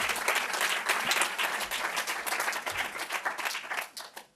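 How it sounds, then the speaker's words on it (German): Lecture audience applauding at a film and lecture event, dense steady clapping from many hands that holds for several seconds and then tapers off, no voices over it. "nochmal ein Applaus für alle Kooperationspartner auch an dieser Stelle"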